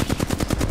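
Rapid automatic gunfire in a shooting video game, about seven sharp shots in quick, even succession, close and loud.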